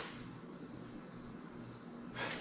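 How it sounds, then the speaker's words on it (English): A cricket chirps steadily in short, evenly spaced bursts about every half second, a quiet high trill repeating over a faint background hiss with no one speaking. "My cricket friend is back."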